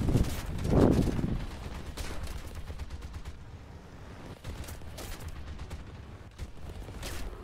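A loud boom opens a stretch of rapid, crackling gunfire-like blasts that continues steadily, like cannon fire in the game War Thunder.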